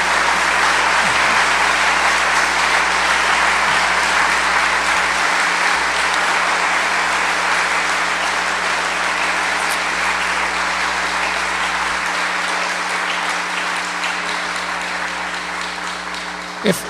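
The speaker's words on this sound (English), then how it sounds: "I would do this to thank you for the applause" Sustained audience applause at the JAWSfest 2005 fan event greeting Jaws writer Peter Benchley, a dense, even roar of clapping filling the hall that slowly fades toward the end.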